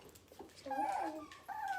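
A newborn puppy gives a short, thin whimper, a couple of rising high-pitched cries close by in a quiet room, with a soft breath-like sound before them.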